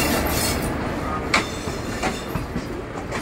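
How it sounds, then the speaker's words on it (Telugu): An express train rushes past alongside a moving train, a close, dense rumble with several sharp clacks and thumps from the wheels over a few seconds. "పక్కన వెళ్తుందండి ట్రైన్"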